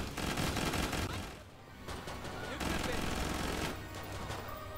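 Rapid gunfire from shooting zombies in the co-op video game Killing Floor 2, dense overlapping shots running almost continuously, with a brief lull partway, under loud game effects and some talk.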